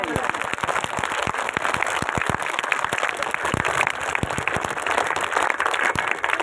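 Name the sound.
schoolchildren clapping loudly for teachers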